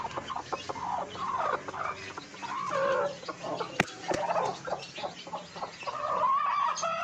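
A brooding hen let out of her nest into a village yard clucks repeatedly alongside other chickens, with scattered close calls and a couple of sharp knocks, no talking.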